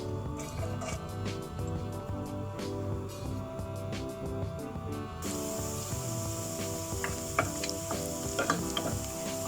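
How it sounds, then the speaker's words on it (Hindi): Chopped garlic sizzles in two tablespoons of hot oil, a steady crackling fry with occasional sharper spits and stirring clatter, close and fairly quiet. "2 टेबलस्पून ऑयल। इसमें ऐड करेंगे गार्लिक चॉप"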